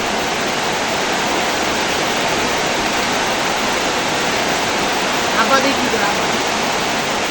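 Heavy rain pours down in a thick, unbroken roar that fills the whole stretch, with a brief faint voice surfacing near the end.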